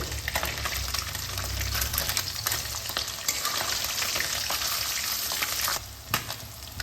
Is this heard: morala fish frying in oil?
yes